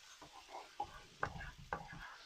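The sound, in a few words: stirring chicken stock into pan for shrimp and grits gravy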